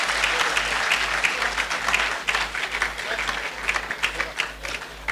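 Sustained applause from an audience at a formal roundtable event, dense steady clapping throughout with a faint low hum underneath and no speech.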